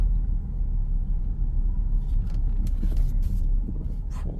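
A 1996 Infiniti I30 drives along with a steady low engine and road rumble heard from inside the cabin, with a few faint clicks and knocks but no distinct gear-change sound.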